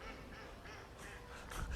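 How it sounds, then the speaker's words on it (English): Ducks quack outdoors in a brief, faint run of raspy calls, several quick quacks in a row, slightly distant with no talk over them. "I love the ducks laughing at its own joke"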